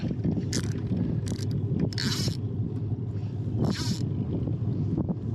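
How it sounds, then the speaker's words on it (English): Offshore wind blowing steadily at the Dorset coast during sea fishing, a constant low rumbling buffet with intermittent brighter gusts and scraping handling noises close by, no talk. "it's a little bit offshore wind today, but it's bearable, it's fishable"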